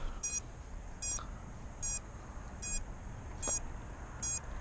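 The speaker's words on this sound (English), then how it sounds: "And we got a beeper up here by the camera." A beeper mounted near the camera on a drone gives six short, high, electronic beeps at a steady rhythm, close and clear over a low background hum.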